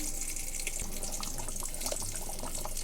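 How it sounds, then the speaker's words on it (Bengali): Lukewarm water pours in a steady, unbroken stream into a pressure cooker holding mutton for curry, a close, continuous splashing gurgle with no talking. "এর মধ্যে হালকা গরম জল দিয়ে দিলাম"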